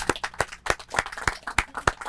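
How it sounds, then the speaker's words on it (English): Sparse, distinct claps ring out at a city press conference in Cleveland as a new Director of Public Works is welcomed, roughly eight sharp hand claps in a loose rhythm, fairly quiet and close. "Let's give him a round of applause."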